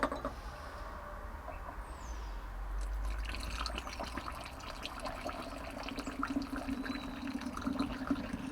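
Water poured out of a bottle in a kitchen while making elderberry syrup, a steady close gurgling splash with some drips, alone and continuous for several seconds.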